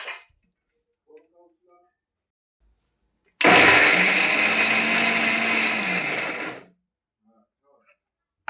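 A mixer grinder roars for about three seconds as it coarsely grinds garlic and green chillies, a loud whirring burst that starts abruptly and cuts off, set between quiet stretches with a few faint clicks.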